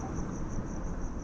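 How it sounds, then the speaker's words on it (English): Crickets chirp in a constant, high, unbroken trill over a low background rumble. "Listen to the crickets there."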